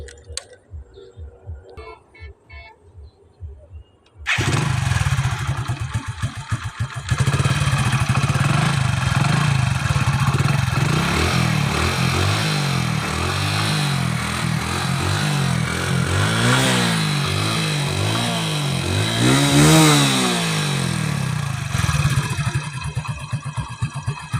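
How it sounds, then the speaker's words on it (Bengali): A motorcycle engine idles after a quiet start, then catches and runs loudly with a steady throbbing hum, rising in a few revs before settling back, close by with no talk. "আমি আপনাদেরকে বাইকের সাউন্ডটা একটুখানি শোনায় দেওয়ার চেষ্টা করি"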